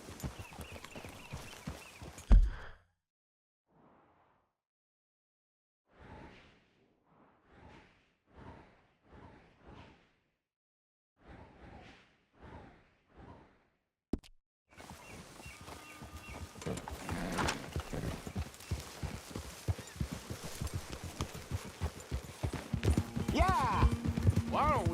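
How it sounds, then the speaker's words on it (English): Horse hooves clip-clop steadily in Red Dead Redemption 2, a run of distinct, evenly spaced hoofbeats standing out in a quiet stretch, then sinking under louder ambient game sound and voices. "get a hold of that horse"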